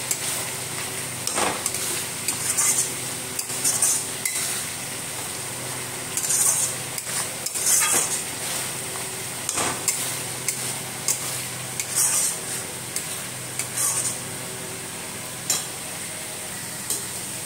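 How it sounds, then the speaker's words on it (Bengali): Potatoes stirred and sautéed in a heavily spiced curry in a pan, with a steady sizzle and repeated scraping clinks of a utensil against the pan, alone without talk. "আলু দিয়ে কষানো হলো"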